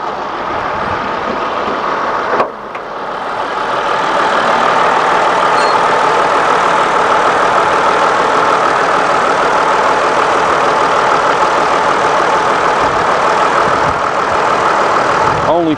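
A 2015 Mercedes-Benz Sprinter's 3.0 diesel engine idles close by, a continuous low rumble that dips briefly after a couple of seconds and then holds even and loud.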